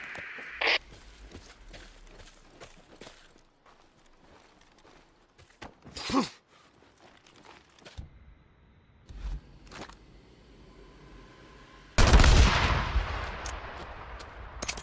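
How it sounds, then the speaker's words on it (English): Gunfire in the video game Days Gone: a few sharp isolated shots spaced apart, then a loud sustained burst of rapid firing near the end, over a quiet ambient game background. "I heard gunshots."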